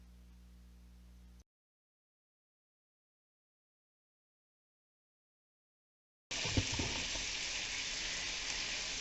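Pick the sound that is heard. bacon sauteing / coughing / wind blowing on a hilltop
bacon sauteing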